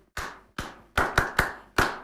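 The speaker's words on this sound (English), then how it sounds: "Clap for Nana Addo." Six sharp claps ring out one after another with short gaps, loud and close, each leaving a brief room echo.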